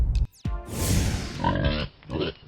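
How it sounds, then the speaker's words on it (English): A pig grunts and oinks in several short, rough bursts, close and fairly loud, with no voices. "Pig."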